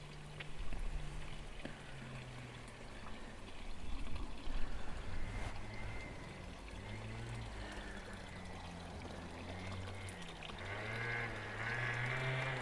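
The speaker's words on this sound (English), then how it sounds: "there's a moped coming through on the road out there" A moped passes along a road beyond a garden, its small engine a low, wavering drone that rises and falls in pitch, faint and distant against quiet outdoor ambience, with no one talking.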